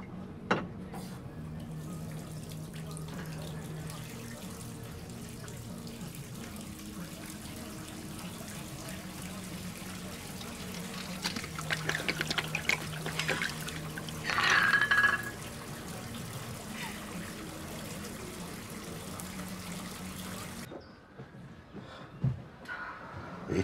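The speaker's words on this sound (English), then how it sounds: "I'm just having a bath!" Water runs from a tap into a bath indoors, a faint, steady rushing flow that continues throughout, with a few brief louder splashy surges before it stops near the end.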